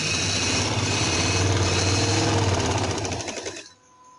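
A sewing machine stitches a kameez side seam in a fast, steady mechanical chatter that runs loud and close, then stops abruptly near the end.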